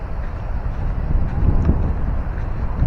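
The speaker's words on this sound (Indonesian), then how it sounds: "kamera ini cuma pakai mic internal ya, kalau ada angin kayak gini kedengeran enggak" Wind buffeting a camera's built-in microphone atop a lighthouse, a continuous low rumbling roar that swells and gusts for a few seconds with no voices.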